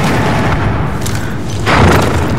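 An explosion in the Battlefield Bad Company 2 shooter, a loud deep boom with a thudding impact near the end of a rumbling battle backdrop, preceded by a softer blast.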